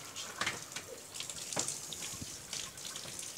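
Running water wets a Belgian Malinois during a bath, a soft continuous tap-like flow with brief splashy surges, quiet and close, with no talking.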